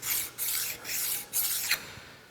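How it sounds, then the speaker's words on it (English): A sharpening stone rubbed over burrs on a lathe cross slide dovetail, giving four close, gritty rasping strokes in quick succession that fade into quiet. "Then stone the burrs off."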